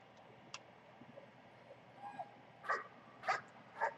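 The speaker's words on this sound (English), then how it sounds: "Puppy dog." A puppy dog whimpers in the horror game Layers of Fear, faint at first, then a few louder yelping cries near the end against a quiet, eerie background.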